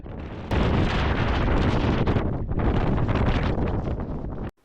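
Strong wind buffets the microphone at a roadside stop in Patagonia, a loud continuous roar with gusts that surge and briefly dip before cutting off. No one speaks.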